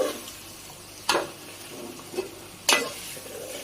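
Meat curry cooks in a pan, giving a low, close sizzle broken by two sharp scrapes as a spoon stirs and turns it.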